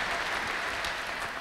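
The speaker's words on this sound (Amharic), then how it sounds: "ከዚህ በላይ አጨብጭቡ እስቲ" A congregation at a church service breaks into dense, continuous clapping, a broad steady wash of applause with no gaps.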